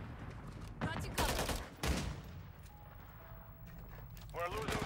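Gunfire in Call of Duty: Modern Warfare III comes in two loud bursts of rapid automatic shots close by, separated by a short gap, with players talking over the quieter stretches.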